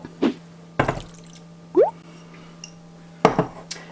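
Red berries clatter and plop into a small saucepan, with a few short knocks and a brief splash of water, close and fairly quiet.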